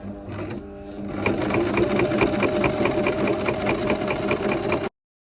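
A sewing machine runs steadily, stitching roof tent fabric for a homemade camper built on a Peugeot Expert, its needle mechanism making a fast, even mechanical rattle at close range before cutting off abruptly.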